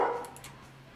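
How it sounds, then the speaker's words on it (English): A single dog bark at the very start, fading quickly into a hollow room echo, followed by quiet background hum. "What's my dog barking at?"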